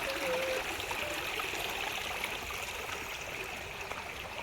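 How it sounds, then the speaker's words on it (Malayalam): Rainwater runs in a small stream beside a footpath, a steady close rushing trickle that continues evenly throughout with no other sound standing out. "അപ്പോൾ ആ സൈഡിൽ കൂടെയാണ് വെള്ളം ഒലിച്ചു പോണത്."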